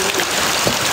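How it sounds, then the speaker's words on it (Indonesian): Steady rain falling outdoors in Jogja, a dense even patter of drops on surfaces with a brief heavier splash near the middle, continuous throughout and no voices. "Lagi hujan nih."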